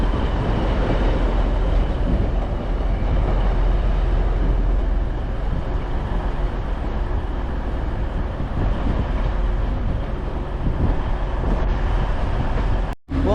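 Class 156 diesel unit 156419 arriving at Manchester Piccadilly station from Rose Hill Marple: a loud, steady rumble and roar of the train filling the platform, continuous and close, cutting off abruptly near the end.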